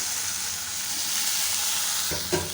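Cut carrots and potatoes drop into onions frying in a pan, giving a steady broadband sizzle throughout with a couple of brief louder stirring clatters near the end; no talking.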